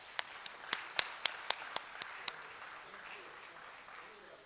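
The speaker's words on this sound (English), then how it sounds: "A round of applause." About nine sharp, evenly spaced claps at an annual research workshop, fairly quiet and soon fading into faint room murmur.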